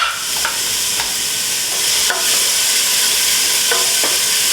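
Onion cooking in oil in a pot, giving a steady, close sizzle with a few light stirring clicks and no talk.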